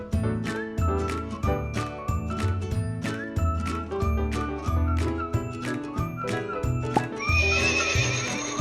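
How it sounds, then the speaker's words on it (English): A farm horse whinnies over repeated clip-clop hoofbeats, with jingling tack ringing through a steady, loud background of music; the neigh rises clearly near the end. "Horse."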